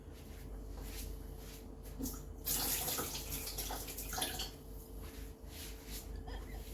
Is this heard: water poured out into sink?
yes